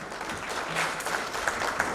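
Steady crowd applause at an evening awards ceremony in Bali, a continuous wash of many hands clapping, fairly dense and even, with a few louder claps standing out.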